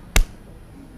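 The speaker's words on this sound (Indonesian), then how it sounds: "sekali saja, jangan tepuk pramuka" One sharp hand clap, close and crisp, followed by quiet room tone.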